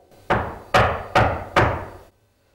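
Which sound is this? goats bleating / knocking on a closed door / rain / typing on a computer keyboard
knocking on a closed door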